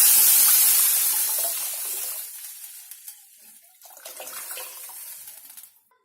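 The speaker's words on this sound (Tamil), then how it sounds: "இப்ப நம்ம கரைச்சு வச்சிருக்க ரசத்தை இதுல ஊத்திடலாம்." Tomato rasam is poured into a hot tempering of curry leaves, asafoetida and dried red chili, giving a loud rushing sizzle and splash that fades, then a second, softer hissing burst before it stops.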